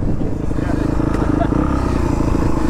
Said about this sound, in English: I really want to try this launch control